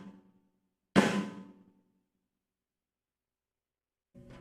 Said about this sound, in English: With the snares on, it'll sound like this.